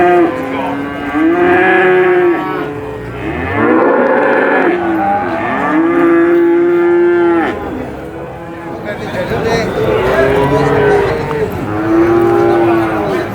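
Cattle low repeatedly at the Purwantoro cattle market among Simmental, Limousin and Peranakan Ongole breeding cows, long loud moos rising and falling several times over a steady crowd murmur.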